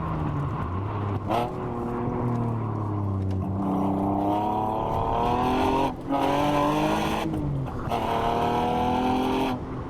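An Alfa Romeo sports car engine revs up through the gears, its pitch climbing, dropping at each shift, then climbing again. It stays loud and close throughout.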